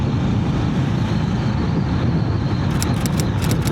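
Honda GB350S motorcycle fitted with a DNA air filter, accelerating on the road: a steady engine drone blended with wind rush, holding loud and even throughout, with faint ticking near the end.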